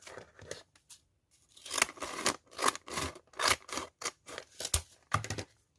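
Scissors snip through a brown paper bag for a junk journal page, giving a series of close, crisp cuts in uneven bursts with short pauses between them.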